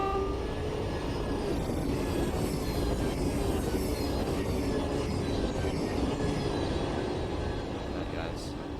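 A Class 700 Desiro train rumbles past a platform on the Brighton Main Line in Train Sim World 4, a loud, continuous roar of wheels and carriages with a brief horn-like tone near the end.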